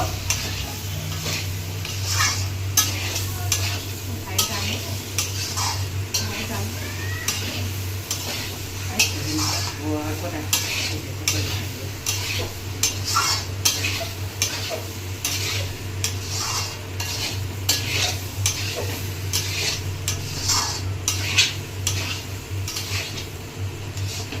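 Spiced food with salt being sautéed (kosha) in a pan, a utensil scraping and clinking steadily against the metal over a continuous low sizzle, close and fairly loud, with no talking.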